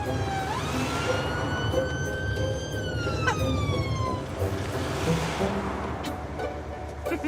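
An ambulance siren in 999 mode wails from another emergency vehicle coming the opposite way, its rising and falling tones shifting in pitch as it passes close by over steady road and engine noise inside a vehicle.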